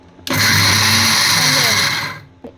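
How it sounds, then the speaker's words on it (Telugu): A kitchen mixer grinder whirs loudly in one short burst of about two seconds, coarsely grinding a peanut chutney powder mix, then winds down, followed by a faint click. "ఇవన్నీ ఇలా కలుపుకొని మిక్సీ చేసుకుందాం"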